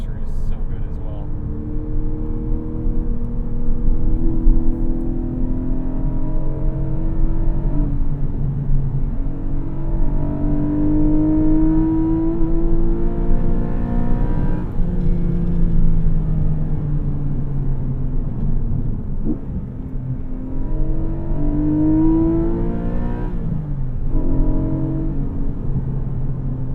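A 2022 Porsche Boxster 25 Years with a manual gearbox revs loudly and close throughout, its engine note climbing and falling through repeated gear pulls with steady road rumble beneath.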